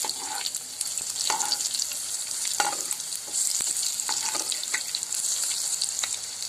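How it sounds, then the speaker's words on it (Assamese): Fish pakoras fry in hot oil, a loud continuous sizzle close by, with occasional stirring and clinks as they are turned. "পকৰাখিনি আমি ইপিট সিপিটকৈ ৰঙা ৰঙাকৈ ফ্ৰাই কৰি লম"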